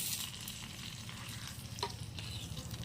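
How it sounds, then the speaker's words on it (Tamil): Hot tempering is poured into a buttermilk curry (mor kuzhambu), giving a continuous bubbling sizzle with faint stirring clinks. It sounds close and soft and runs steadily without any pause. "தாளித்து மோர் குழம்புல ஊற்றணும்."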